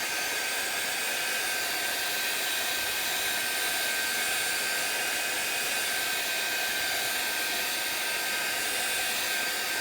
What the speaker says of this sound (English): we're going to have a blast of my heat gun